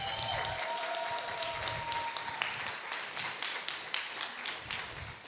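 An audience at a talk-show season premiere claps in a moderate, steady burst of applause that carries on for several seconds, with a faint tone and some voices in the background.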